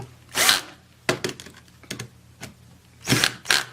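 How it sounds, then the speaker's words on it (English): Several short bursts of a power drill whirring and stuttering as its clutch slips at reduced torque tightening water softener bolts, with quick clicking pulses between them, close by and no talking. "Notice the drill slipping?"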